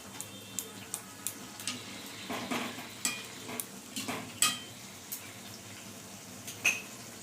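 Ridge gourd and potato curry with red lentil fritters simmers in a pan, soft bubbling under a run of sharp ladle taps and clinks against the pot at uneven intervals.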